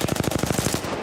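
Rapid automatic gunfire in the battle-royale shooter Apex Legends, a fast, even burst of about a dozen close, punchy shots that then gives way to a dense, noisy tail.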